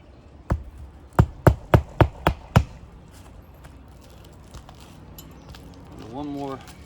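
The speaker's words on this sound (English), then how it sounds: "I'm gonna hammer another one." A palm flush hammer drives a fastener into a pre-existing hole during a repairability test, giving one sharp strike followed by a quick run of five crisp, evenly spaced blows close by, then a voice briefly at the end.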